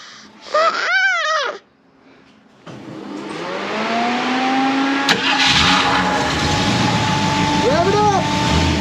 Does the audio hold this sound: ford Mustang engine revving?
yes